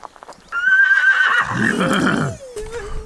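A horse whinnies loudly and close by, a long rising-and-falling neigh lasting about two seconds, offered a carrot at a farm; softer snorting and a brief lower call follow.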